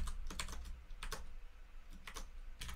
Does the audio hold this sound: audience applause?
no